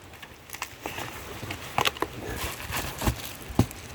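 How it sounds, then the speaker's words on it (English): Rain patters outdoors with scattered irregular droplet hits and crackles over a soft background hiss, fairly close and moderately loud, with no speech. "the rain is getting me again"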